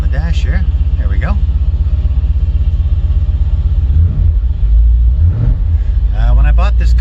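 A C4 Corvette engine idles with a loud, steady low rumble close by, broken by a few short revs that rise and fall, while a voice talks intermittently over it.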